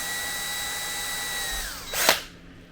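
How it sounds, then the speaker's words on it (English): A small power drill spins up and bores 1/8 inch holes through a plastic part of a 1:48 scale Disney Nautilus submarine drydock model, a close steady high whine ending in a brief gritty burst as the bit cuts through. "throw it in your drill, and just drill out these little side holes to 1/8. So we're going to drill that through."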